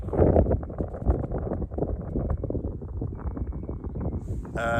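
Steady westerly wind buffets the microphone on a riverbank with a low, rumbling roar that gusts throughout, with no voices.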